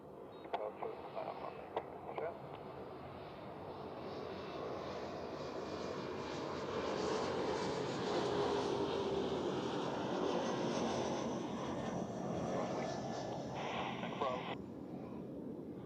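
An airliner at Zurich Airport rumbles with a broad, steady engine roar that swells and holds for a long stretch, then fades slightly, with faint radio chatter and a few clicks early on.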